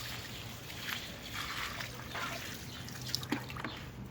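Homemade liquid garden fertilizer being poured, giving a soft, steady trickle with a few dripping splashes, close by and fairly quiet, with no voices.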